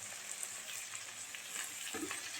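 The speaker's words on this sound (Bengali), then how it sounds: "মশলা আমাদের ভাজা হয়ে গেছে" Turmeric, cumin and coriander powder frying in a pan, a quiet continuous hiss with faint scraping of stirring near the end, close but soft, no voices.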